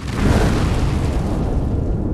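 A deep, rumbling explosion effect, loud and broadband, with a heavy boom that swells in the first half-second and then rolls on as a sustained roar, slowly thinning out over about two seconds with no voices.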